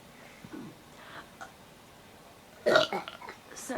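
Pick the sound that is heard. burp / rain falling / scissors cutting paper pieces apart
burp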